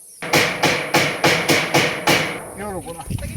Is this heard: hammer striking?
yes